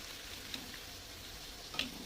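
Luchi, puffed flatbread, frying in hot oil gives a soft continuous sizzle at low volume, with two faint ticks from handling breaking through the steady hiss.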